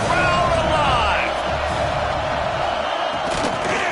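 A stadium crowd roars in the NCAA 26 college football video game during a third-down red zone play, a loud sustained wash of cheering that carries on throughout under the game's commentary.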